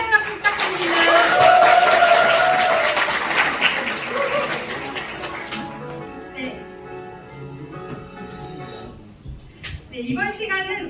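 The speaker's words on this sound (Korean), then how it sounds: "다시 한번 감사의 박수 부탁드립니다" At an evening business presentation, the audience breaks into a round of thank-you applause that peaks early and then fades, giving way to a voice speaking over a quieter room.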